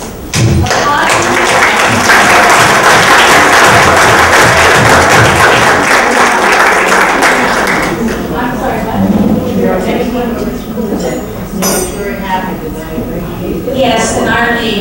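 An audience at a League of Women Voters annual meeting in Fairfax County, Virginia, claps loudly and densely for several seconds, then the clapping thins out as voices talk over it.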